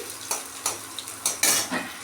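Chopped onion lightly frying in a pan for a yardlong bean and onion stir-fry: a close, steady sizzle broken by several sharp bursts of stirring and scraping, with no talking.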